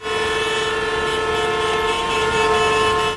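Sustained horn blast from an early-style vehicle horn, steady and loud throughout with a bright multi-toned tone, heard alone without talk.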